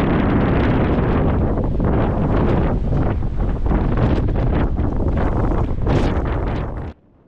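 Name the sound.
mistral wind blowing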